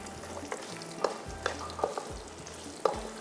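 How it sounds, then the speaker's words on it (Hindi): Garam masala fries with onions in a pan, a soft sizzle broken by several distinct scrapes and taps of a spoon stirring, close with no voices. "इसको भी थोड़ा सा फ्राई करते हैं, गरम मसाले को प्याज के साथ"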